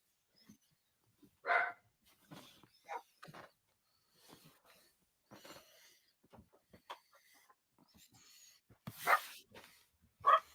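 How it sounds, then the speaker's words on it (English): Several dogs bark from a distance in scattered bursts over a quiet background, with some barks louder and closer than others and no talk. "The dogs are barking at somebody."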